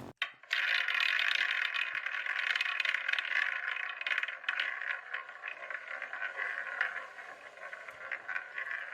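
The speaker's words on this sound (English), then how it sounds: "let's spin the wheel" A prize wheel spins with a steady, continuous ratcheting clatter of rapid clicks that starts abruptly and runs for several seconds, gradually thinning and slowing toward the end.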